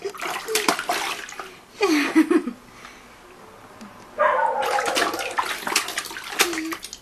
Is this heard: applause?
no